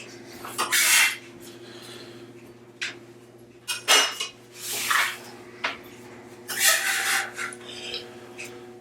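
Knife chopping roasted-vegetable herbs on a cutting board in a home kitchen, several bursts of scraping, rasping strokes separated by short pauses, fairly close with a faint steady hum underneath and no talking.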